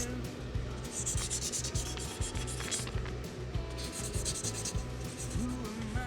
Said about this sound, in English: The 400 grit pad to sand back some of these stripy areas,